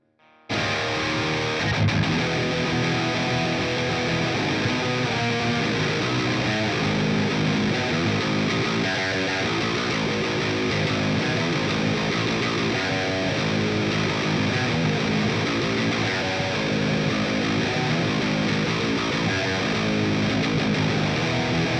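An Ibanez RG2077XL seven-string electric guitar with a Lundgren M7 pickup, played through a dark distorted patch with the top end boosted, giving a continuous loud, saturated riff with no talking.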